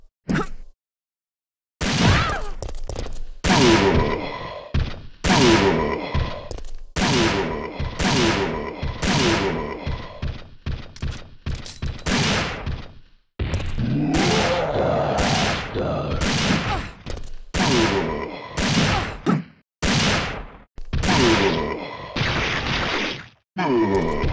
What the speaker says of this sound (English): takes 14 shots from the Magnum to take out this instance of Nemesis